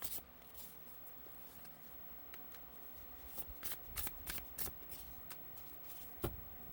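A deck of oracle cards being shuffled by hand, soft riffling and brushing that is quiet at first and then quickens into a flurry of crisp card snaps and slaps, close and faint, with no talking.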